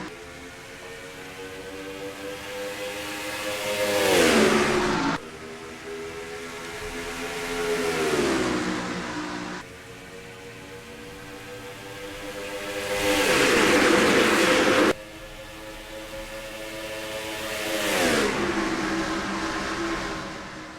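Race trucks in the NASCAR Racing 2003 game accelerate from the green flag at Atlanta, their engines roaring and climbing steadily in pitch, then dropping sharply at each gear shift, repeated across four long rising pulls.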